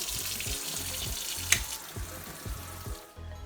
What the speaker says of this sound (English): Let me rinse it and show you all what it looks like